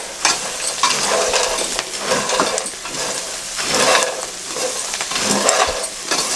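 A spoon scrapes and stirs a snack mixture in a frying pan with soft sizzling, repeated rhythmic scraping strokes close up and alone.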